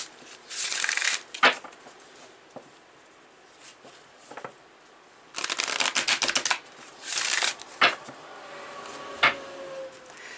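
Numerology cards being shuffled by hand: several short bursts of riffling, flapping card sounds separated by quieter pauses, with a few sharp taps and a longer run of shuffling in the middle, heard close up.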